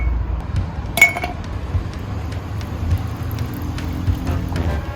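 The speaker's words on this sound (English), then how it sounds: "Let's throw in some ice." Ice cubes drop into a glass of a Vimto summer drink with one sharp clink, followed by a few faint, scattered taps and clicks.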